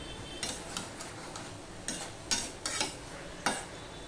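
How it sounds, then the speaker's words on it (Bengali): Vegetable and prawn curry being stirred in a pan, a spoon scraping and clinking in a few sparse strokes over a faint sizzle, close and fairly quiet. "তাই জন্য এবার আমি ভালো করে মিশিয়ে দিলাম।"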